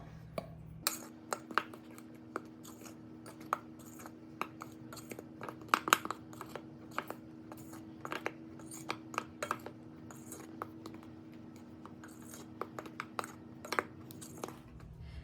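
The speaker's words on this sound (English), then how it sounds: "Now all it says is just to go ahead and mix it to combine everything" A spoon stirs dry baking soda and salt in a bowl, giving quiet, scattered clinks and taps against the sides over a faint low hum.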